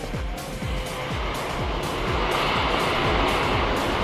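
A military aircraft's tires meet the runway during landing at Madeira, heard as a broad, steady roar of rushing air and rolling noise that swells slightly as the plane settles, with no voices.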